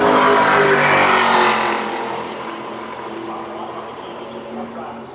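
A race truck runs on the Phoenix oval during NASCAR Craftsman Truck Series championship qualifying, its loud engine roaring close at first and then fading into a steadier, more distant drone.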